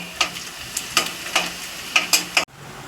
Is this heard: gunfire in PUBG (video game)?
no